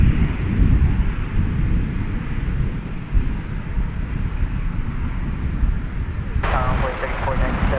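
An American Airlines Boeing 737-800 bound for Austin gives off a steady jet engine rumble at DFW Airport, fairly close and continuous, with a brief sharp higher-pitched burst near the end.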